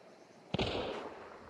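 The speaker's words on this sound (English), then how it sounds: "I heard another gunshot." A single gunshot in the game Hunt: Showdown, one sharp distant crack followed by a rolling echo that fades slowly, with no talking over it.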